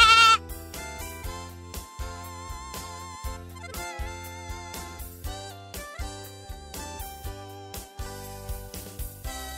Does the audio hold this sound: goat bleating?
yes